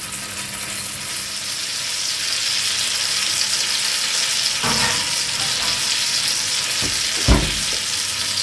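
An American-style pancake fries in a pan with a steady, close sizzle, broken by a couple of brief clinks and knocks toward the end. No voices are heard.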